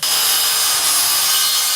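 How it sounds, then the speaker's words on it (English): Wood being sanded and sawn during a house renovation in Babylon, a steady, loud, dense rasping noise that runs unbroken for the whole stretch, with no voices. "There is so much work going on at this Babylon house, and all of the sanding and sawing"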